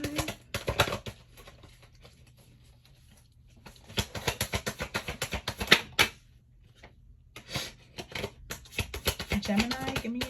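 Tarot cards are shuffled in quick papery riffles and flicks, coming in several bursts separated by short quiet pauses, close and fairly soft.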